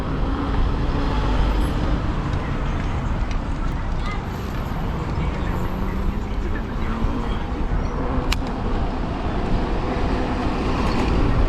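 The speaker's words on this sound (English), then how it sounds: "we need to get past this vehicle" Steady roadway rumble on Bergen Line Avenue as a road vehicle is passed by an e-bike, continuous traffic noise close by with a voice talking over it.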